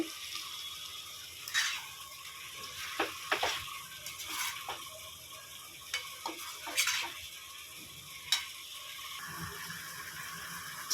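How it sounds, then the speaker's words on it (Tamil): Chicken for pepper chicken gravy is stir-fried on high flame: a faint sizzle runs under repeated scraping and clattering strokes of a spatula against the pan, coming in irregular bursts. "கொஞ்சம் ஹை ஃப்ளேமில் வச்சு சிக்கனை புரட்டிக்கலாங்க"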